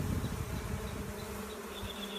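A small swarm of honeybees buzzing steadily and densely around a post outdoors during a swarm catch, a continuous close hum with no talking.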